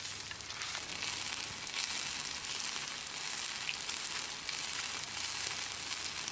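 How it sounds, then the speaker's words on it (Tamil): King fish (vanjiram) pieces shallow-fry in hot oil, giving a steady, close, even sizzle throughout with no voices. "இப்போ இதை பொரிச்சிடலாம். நான் ஏற்கனவே எண்ணெய் காய வச்சுருக்கேன்."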